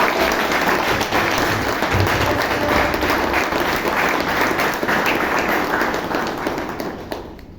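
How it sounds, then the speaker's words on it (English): An audience at a Toastmasters club meeting in Bangalore gives a thunderous round of applause to welcome the toastmaster: dense, sustained clapping from a full room that tapers off at the end. "With a thunderous round of applause"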